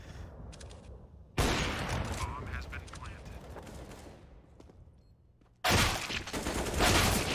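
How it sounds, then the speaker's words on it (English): Counter-Strike gunfire on the Mirage map comes as sharp, loud bursts of rapid shots in two main volleys with scattered clicks between them, and a commentator talks underneath. "Shots all around by Favin."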